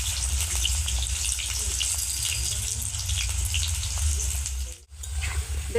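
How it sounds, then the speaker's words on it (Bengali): Potatoes fry in hot oil with a steady, loud sizzle that continues throughout, close up and without talk. "তেল তো গরম হয়ে গেছে, এবার আমি আলুগুলোকে তেলের মধ্যে দিয়ে দিচ্ছি।"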